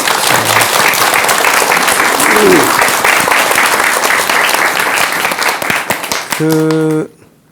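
An audience at a talk on lotus flowers and lotus food applauds with dense, sustained clapping that fades near the end, with brief background voices mixed in.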